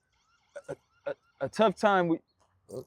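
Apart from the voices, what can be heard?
alarm going off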